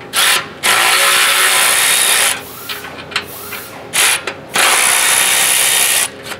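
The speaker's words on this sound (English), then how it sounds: "now you're gonna use a 13 millimeter and take off these torque clamps" A 13 mm ratchet loosens the exhaust torque clamps on a 2021 Porsche 992 Turbo, producing loud, close bursts of rapid metallic clicking that run for a second or more, broken by short pauses.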